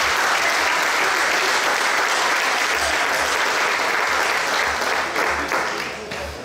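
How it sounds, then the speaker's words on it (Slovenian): An audience at a Slovenian sports games award ceremony applauds steadily, a dense, loud wash of clapping that holds throughout and starts to fade toward the end. "En aplavz torej za ta dva pogumna fanta."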